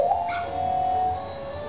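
Dog in a Majora's Mask dog race whimpering close up, a short high whine with a few yips, and no talking.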